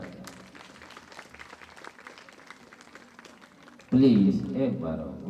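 An audience bursts into loud, sustained clapping at a devotional gathering, rising suddenly after steady background chatter and continuing strongly to the end.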